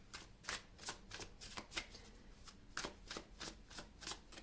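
Tarot cards shuffled by hand during a reading, a steady run of crisp riffling bursts about every half second, close and clear with no voices over them.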